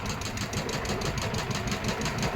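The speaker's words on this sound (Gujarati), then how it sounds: "ધીમી કરી દે બોટ." A motor boat engine idles on a crocodile river, a steady, close, rapidly pulsing drone with no pauses.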